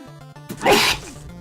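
A single sharp sneeze bursts out close to the microphone, a quick inhale then a loud explosive release, set against faint background game music.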